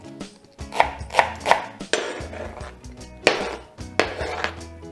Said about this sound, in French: on commence par émincer un blanc de poireau